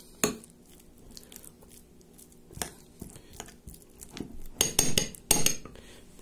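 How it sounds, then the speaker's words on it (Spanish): A spoon stirs chicken salad with mayonnaise in a bowl, scraping and clinking against the sides in irregular bursts that grow busier and louder toward the end. "Seguimos revolviendo."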